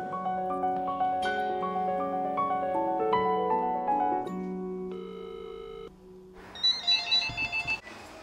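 A telephone in a restaurant rings with a melodic electronic ringtone, its tones repeating clearly for several seconds before the ringing stops and brief clattering pickup noises follow.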